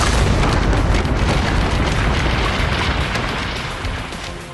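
A film-scene explosion from To Live and Die in L.A. roars as a dense, loud broadband blast that holds steady and then slowly fades over several seconds, with no voices over it.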